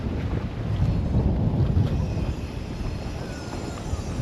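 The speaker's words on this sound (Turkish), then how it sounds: "Deniz bayağı bir dalgalı bugün. Çünkü hava çok rüzgarlı." Steady, roaring wind buffets the microphone by the sea at Sinop, Turkey, with a broad low rumble of rough, wavy water underneath throughout.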